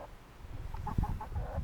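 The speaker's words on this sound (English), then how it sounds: "Crazy chickens rolling in the dirt." A few soft, low clucks from chickens, fairly faint, in a quiet outdoor setting.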